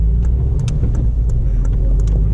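A 2009 Honda Civic Si engine revving hard through the gears, a loud, close, continuous engine roar with a deep rumbling low end, heard alone without talk.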